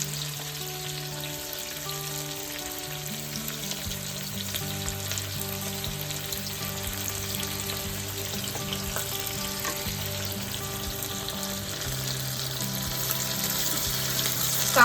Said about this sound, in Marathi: लगेच आपण कांदा टाकून घेऊया।